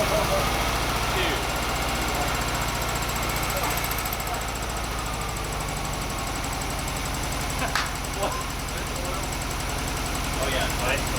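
A 1970 VW Bug engine idling just after its first start, a steady low rumble with a rapid knocking pulse, fairly close and continuous, with a voice talking over it.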